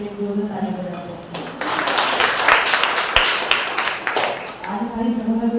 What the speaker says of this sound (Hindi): आगे परमेश्वर की आराधना के लिए जोरदार ताली बजाते हैं